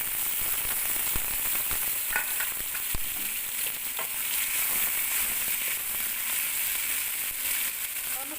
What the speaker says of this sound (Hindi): जी, तो ऑयल हमारा जो है वो गर्म हो चुका है। अब मैं इसके अंदर प्याज डाल दूँगी